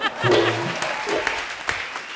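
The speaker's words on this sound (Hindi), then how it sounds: "ठोको ताली" Brief applause and clapping from a studio audience on a comedy show, with a few scattered sharp claps, moderately loud, alongside some voices and laughter.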